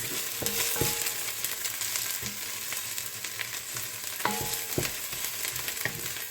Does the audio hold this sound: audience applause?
no